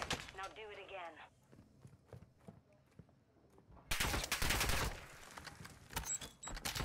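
Gunshots in Modern Warfare II ranked Search and Destroy, scattered quiet shots at first, then a loud burst of heavy gunfire midway, with players talking over it.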